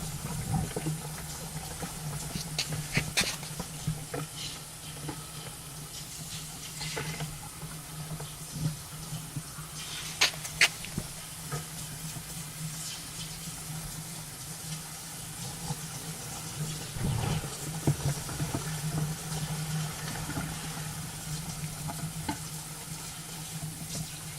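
Water runs steadily through a Sluice Goose GOLDROP sluice, washing dirt and gravel along with a continuous rushing wash broken by scattered splashes and gritty clatters.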